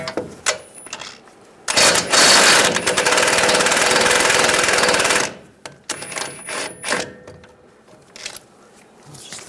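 On a 2011-2018 Ram 1500 being fitted with front lower ball joints, a power tool hammers the ball joint nut loose in a loud, rattling burst of a few seconds, with short clanks before and after.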